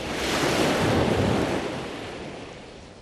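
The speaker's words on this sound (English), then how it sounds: "in the sounds of the ocean beating on the shore" Ocean surf breaks on the shore in a broad, roaring wash that swells to a peak within the first second and then slowly recedes and fades, with wind blowing across the microphone and no voices.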